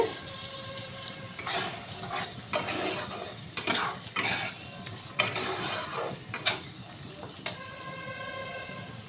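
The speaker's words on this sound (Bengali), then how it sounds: "এবার মশলাটা একটু কষানো হবে" Spice paste for a jackfruit and prawn dish is stir-fried in a pan, giving intermittent scraping strokes of a spatula over a low, soft sizzle, close by.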